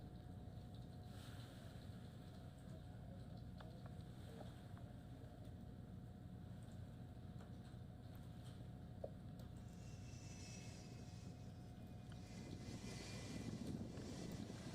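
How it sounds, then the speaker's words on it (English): A distant, low rumble from a private jet taxiing on the airport tarmac in Miami, faint and steady under outdoor ambience, with a slight swell of engine noise near the end; no one speaks. "So it does look like Trump's private plane is taxiing here."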